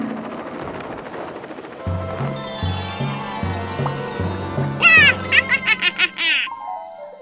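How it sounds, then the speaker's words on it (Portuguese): Steady thumping chop of helicopter rotor blades beats out a regular rhythm, followed by a burst of high, bubbly giggling. "hélices de helicóptero?"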